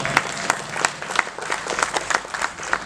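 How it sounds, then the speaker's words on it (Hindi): A live musical night show audience claps hard for itself, a dense, steady wash of many hands close by, with no break across the whole stretch. "खुद के लिए जोरदार तालियां बजाएं"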